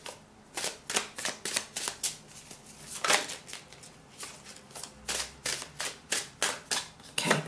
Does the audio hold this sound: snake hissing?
no